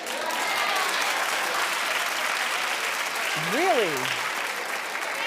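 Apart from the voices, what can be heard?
audience clapping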